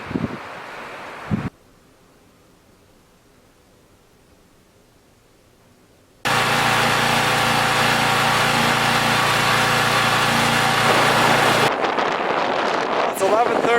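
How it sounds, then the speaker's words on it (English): Portable generator running at night during a power outage in a Minnesota April snowstorm, starting as a loud steady close engine drone that holds level for several seconds before cutting to rougher wind-buffeted noise. "Fired up the generator, got that plugged in"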